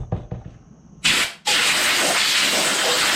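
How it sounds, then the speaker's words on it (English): Compressed air blasts out of a nozzle to clear a carbon fiber mold for a tail light part, starting as a short burst and then becoming a steady, loud, close hiss after a brief pause. "next step, I like to blow out the mold with compressed air"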